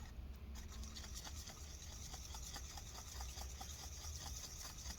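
JB Weld epoxy being mixed for a laptop screen bezel and hinge repair, a quiet, close, rhythmic scraping and rubbing of repeated short strokes.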